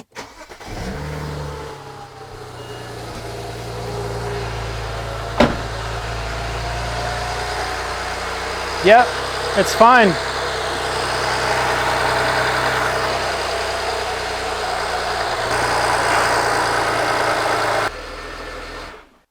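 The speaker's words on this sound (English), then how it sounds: "let's turn the car on and see if she squeaks." A BMW E90 starts up after an oil filter housing gasket job, cranking briefly and then settling into a steady close idle with a couple of short rev blips midway; a voice speaks briefly.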